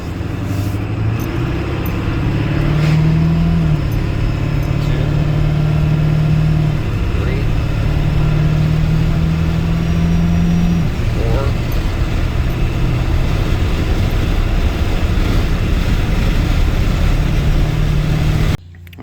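An OBS-era Ford pickup truck engine hums steadily at low revs while pulled over at the roadside, with a few tonal shifts in pitch as it idles down, before cutting off abruptly at the end.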